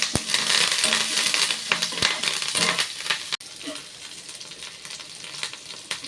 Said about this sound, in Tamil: நல்லா பொன்னிறமாக தாளிச்சாச்சு.